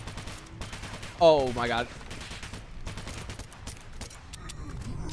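Rapid bursts of gunfire in the modded shooter S.T.A.L.K.E.R., sharp repeated shots peppering the scene around a brief loud exclamation from a player.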